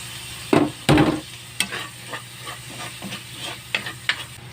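Fried rice with garlic stirred in a pan, with sharp scraping clacks of a spatula at irregular intervals over a steady background sizzle, close and fairly loud.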